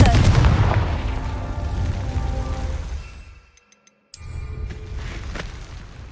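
Blast of the Confringo spell in a game, a loud, dense rumbling boom with crackling burst energy that fades into near silence before a second heavy surge returns.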